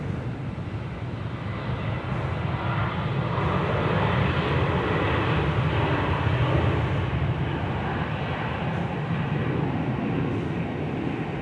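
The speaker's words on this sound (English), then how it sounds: "there's an aircraft coming in on the crossing. It's Jetstar." Jetstar jet aircraft on the runway at Perth, a loud, continuous broadband engine roar that swells midway and stays heavy throughout, with no talk.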